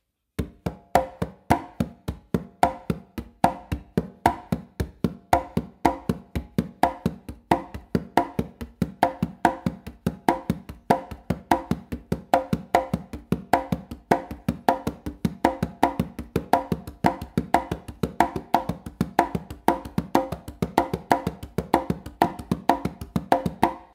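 Congas play a steady 2-3 son clave independence exercise, with bass finger strokes and open tones in a dense, even rhythm that repeats for the whole stretch, close and without any talking.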